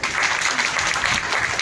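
A conference audience at an educational event claps to welcome a speaker, a brief, dense burst of many hands at steady loudness for under two seconds, with no talk over it.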